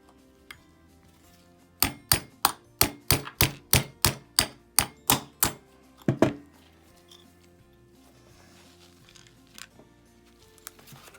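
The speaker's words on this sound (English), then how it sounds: "to get this out, we're gonna have to punch out this pin" Metal punch tapped with a hammer to drive out the firing pin retaining pin of a Girsan MC28 V2 pistol: a rapid, even series of about a dozen sharp, close taps, then two heavier knocks and scattered small clicks.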